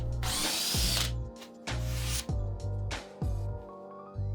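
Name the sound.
power tool cutting a maintenance hole in wood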